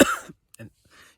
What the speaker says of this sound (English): So there's going to be a bit of coughing